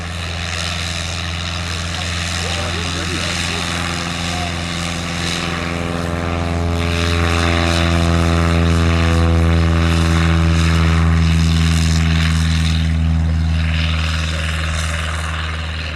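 A low-powered propeller aircraft with long wings, regarded as a motor glider, flies at the Shuttleworth Festival of Flight air display, its steady engine drone growing louder as it passes near and then easing slightly.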